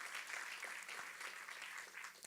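A church congregation breaks into faint, continuous applause, many hands clapping at once from across the room, without any talk.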